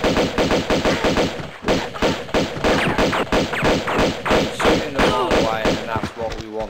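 Rapid bursts of gunfire from an enemy gunman in the video game Tomb Raider II (remastered), loud and near, repeating throughout with game music or other game sound underneath.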